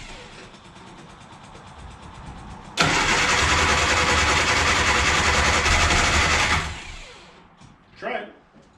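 A 1960 Austin Countryman's engine cranks, then catches and runs loud and close for several seconds at a steady rough idle before shutting off; voices murmur around it.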